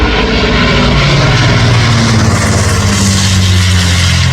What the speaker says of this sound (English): And then the Lancaster came past.